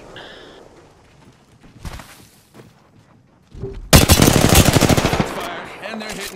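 Rapid automatic gunfire from a shooter video game, a loud sustained burst of shots in the second half after scattered quieter shots and sounds earlier.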